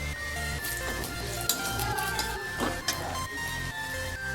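Black mustard seeds and chilli sizzle in hot oil as a Bengali tempering, giving a steady, close crackling hiss with occasional light clinks of a utensil stirring the pan.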